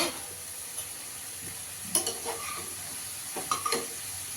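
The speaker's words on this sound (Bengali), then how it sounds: "মশলাটা ভালো করে কষিয়ে নেব।" Spices sauté in a pan for Bengali egg dhoka, with a soft sizzle underneath and scraping stirring strokes against the pan coming in a few distinct bursts, close by and without talking.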